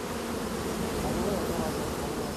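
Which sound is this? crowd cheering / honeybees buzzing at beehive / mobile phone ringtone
honeybees buzzing at beehive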